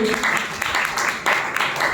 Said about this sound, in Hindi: तो तालियां बजाइए।